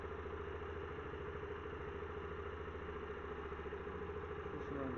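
Yamaha Factor 125cc motorcycle engine running at idle after repair work on a noisy, weak motor and a redone clutch, a steady close mechanical chug with light clatter, fairly quiet and unbroken.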